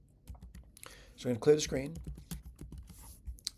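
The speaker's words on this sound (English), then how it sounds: "What I'm going to do is go to Sage Code and type it in." Code is typed into Sage on a computer keyboard. Scattered, close key clicks come before and after someone speaking in the middle.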